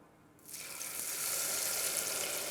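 Olive oil warming in a pan bursts into sizzling as a peanut salsa mixture is poured in. After a quiet start, a bright hiss starts abruptly and then holds steady and close.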